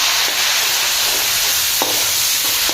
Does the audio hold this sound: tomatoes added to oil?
yes